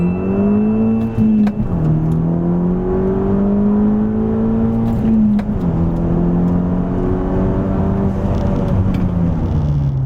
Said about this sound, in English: Test it out, make sure we got all gears, and take it out on the road.